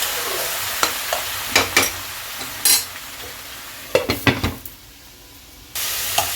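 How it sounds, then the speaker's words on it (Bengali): Spice paste being stirred and fried in a pan, a close sizzle with sharp scraping strokes at uneven intervals, then a brief quiet gap before the frying hiss returns, with no talking. "এবারে ঢাকাটা খুলে আমি ভালো করে মশলাটাকে কষিয়ে নিলাম"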